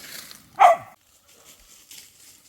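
A rural Kerala dog near forest land gives a single loud, sharp bark that cuts off quickly, followed by faint background rustling and quiet ambient noise.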